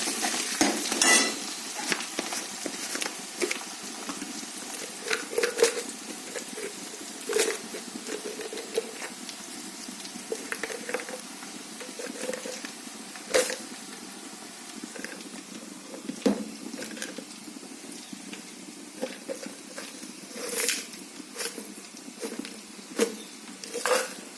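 Egg gravy simmering over a low flame, a soft steady bubbling and faint sizzle with scattered clicks and light stirring sounds, fairly quiet and close.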